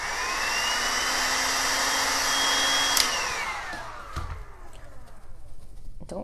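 Hair dryer blowing on freshly painted furniture, a loud steady whirring rush that winds down partway through, leaving a few clicks and knocks behind.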